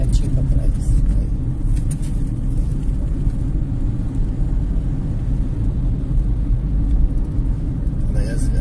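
Car accelerating in fourth gear on a 60 km/h city road, a steady low engine and road rumble running throughout with no break, heard from inside the cabin during a driving lesson.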